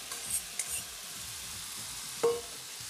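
Garlic sizzles in olive oil in a pan, a steady close crackle with brief stirring scrapes and a clink of a utensil.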